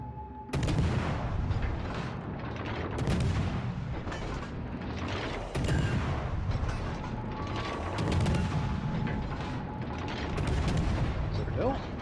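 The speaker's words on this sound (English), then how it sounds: "Fire with secondaries." Secondary guns on a warship in World of Warships: Legends fire in repeated heavy volleys every couple of seconds, with mechanical clatter between shots and occasional voices underneath.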